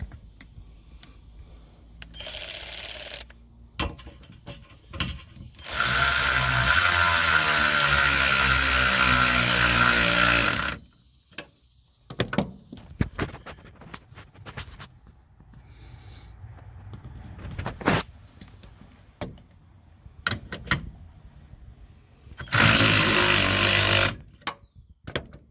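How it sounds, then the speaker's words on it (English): A power tool drives a bolt into pre-drilled wood during subframe installation on a 2012 Camaro rebuild, with loud sustained whirring bursts of several seconds between quieter clanks and handling noises. "pre-drilling it makes it so much easier for the bolt to go in"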